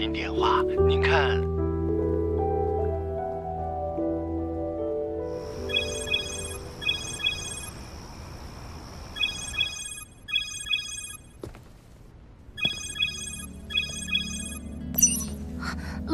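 An incoming video call rings in the animated series Swallowed Star (吞噬星空): a bright electronic ringtone repeats in short, evenly spaced bursts over a low background score, with a brief pause before the pattern resumes.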